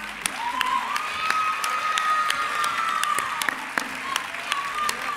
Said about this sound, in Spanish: Fuerte aplauso para ellas